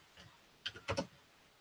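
A few quick keystrokes on a computer keyboard, soft close clicks clustered in a short burst against a quiet background.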